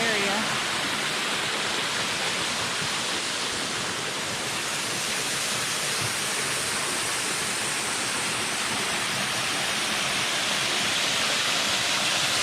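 A double waterfall in Frozen Head State Park, Tennessee, roars as a steady, broad, unbroken rush of falling water that fills the whole stretch at constant loudness.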